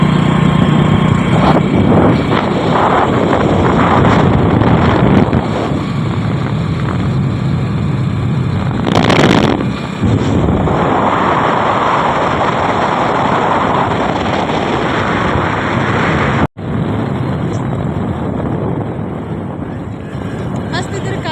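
Motorcycle ride on the road: a loud, continuous roar of wind buffeting the microphone over the engine rumble, with a short gust swell midway and a brief dropout near the end; a voice is heard speaking under the noise.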